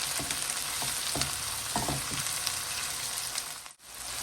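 Onions and chopped tomatoes for Afghani gandana saag sizzle steadily in a frying pan, with several soft scraping stirs near the start and middle, close and alone with no voices.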